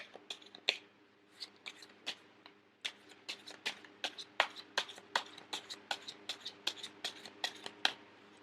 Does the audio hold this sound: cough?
no